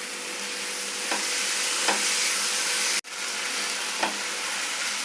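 Fish curry with tamarind, tomatoes and onions being stirred in a pan, a steady sizzle broken by a few soft scraping strokes and one brief clatter near the middle, with no talking.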